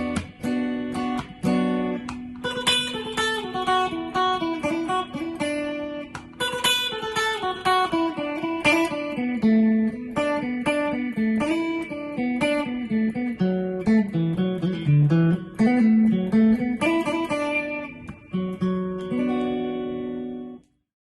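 A guitar runs up and down a scale, single notes picked one after another in a steady rhythm, clear and close, with no talking.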